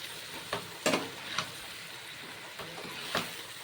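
Fish pieces frying in hot oil while being stirred in a pan, a quiet low sizzle broken by a handful of sharp scraping stir strokes spaced irregularly.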